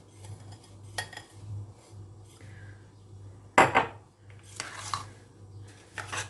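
A spoon stirs pudding mixed with crushed biscuits in a bowl, making a few scattered clinks and scrapes against the bowl over quiet background hum.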